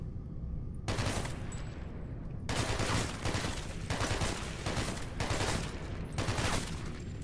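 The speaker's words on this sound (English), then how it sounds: "Left mouse button to shoot." Automatic gunfire in the video game Hatred: long rapid bursts of loud shots in about three stretches with brief gaps between them, dense and continuous, with no talk over them.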